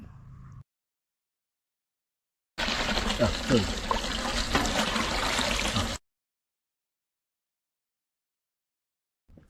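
Raw chicken pieces washed in water in a Kerala home kitchen, a steady run of splashing and trickling lasting a few seconds between silent stretches.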